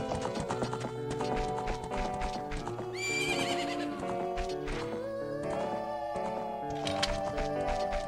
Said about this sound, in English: And avoid getting run over by horses.